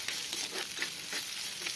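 Onion, curry leaves and finely chopped small yam stir-fry in a hot pan, giving a close, steady sizzle with soft scraping strokes of stirring at an even rhythm and no voices.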